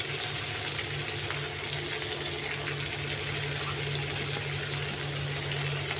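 A pot of rice boiling with salt, turmeric and green chillies added, giving a steady close bubbling and hissing simmer with no voices.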